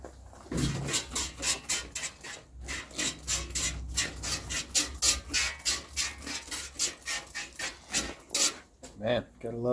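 Steel-wool scrubbing of a junkyard wheel from a Chevrolet C10 squarebody truck, using four-aught steel wool and Simple Green cleaner. Close, loud rhythmic rasping strokes repeat steadily, with a brief splash-like rattle at the end.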